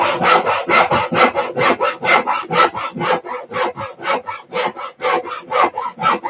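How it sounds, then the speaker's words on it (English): A hand saw cuts straight down across the top of a timber piece, making a fast, even rhythm of loud rasping strokes up close with no talking. "once we've cut across the top of that timber, we're going to eyeball this one and watch that come straight down"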